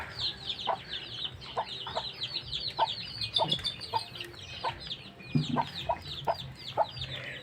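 Native chickens cluck and chirp in a yard, a busy mix of short repeated clucks and high peeping from young chicks, moderately close and continuous with no voices.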